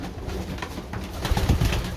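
Tame breeding pigeons coo in soft, throaty bursts close by, getting louder toward the end, just before being fed.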